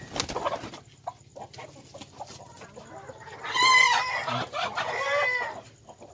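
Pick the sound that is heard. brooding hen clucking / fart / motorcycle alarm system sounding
brooding hen clucking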